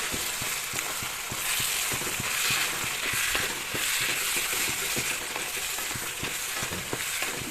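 Duck meat frying with chili, coriander and cumin powders, a steady loud sizzle with frequent sharp ticks of stirring throughout, no voice.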